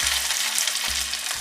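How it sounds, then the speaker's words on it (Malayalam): Chopped onions hit hot oil in a pan for a Kerala fish molee, giving a loud, continuous close-up sizzle with a couple of low thumps as the pan or spoon moves. "ഇത് ജസ്റ്റ് ഒന്ന് പൊട്ടി വന്നത് നമുക്ക് അരിഞ്ഞു വെച്ചിരിക്കുന്ന ഈ സവോള അതിലേക്ക് ഇട്ട് കൊടുക്കാം."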